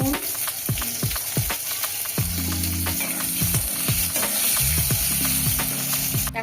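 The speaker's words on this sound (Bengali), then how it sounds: "বেগুন দিয়ে দিল পালং শাকের তরকারির জন্য। বেগুনটা ভাজা ভাজা হবে" Eggplant frying in hot oil for a spinach curry, a steady close sizzle with stirring and spatula scrapes clacking against the pan throughout.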